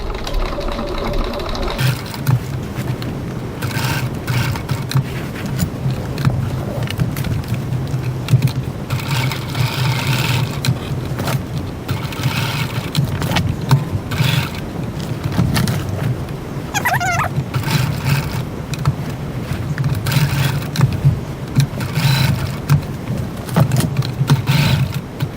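A sewing machine stitches steadily through a bag strap, reinforcing the bottom with a continuous mechanical whirr that runs loud and close, with brief pauses and small shifts in pace throughout.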